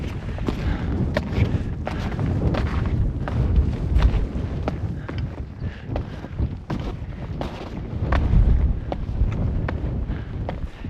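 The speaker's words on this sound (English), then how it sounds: "It's windy, but it's not too bad." Strong wind gusts on a winter mountain route on Longs Peak buffet the microphone in low rumbling surges, with intermittent sharp crackles and rustles throughout.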